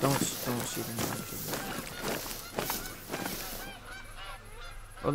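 Geese honking outdoors during a hunt, a dense flock calling repeatedly and loudly at close to middle distance, with honks overlapping and continuing throughout.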